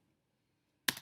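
A single crisp computer mouse click sounds in the Sibelius 7 notation software, coming suddenly and close after near silence.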